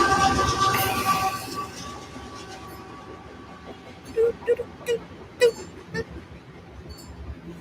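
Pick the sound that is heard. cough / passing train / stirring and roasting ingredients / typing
passing train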